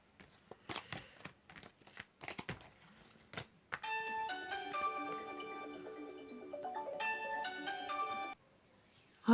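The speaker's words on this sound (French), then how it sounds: "c'est le téléphone qui a sonné" A telephone rings with a melodic electronic ringtone, a repeating pattern of clear, tonal notes lasting about five seconds. It comes after a series of sharp rustling and tapping noises, and a louder sound breaks in at the very end.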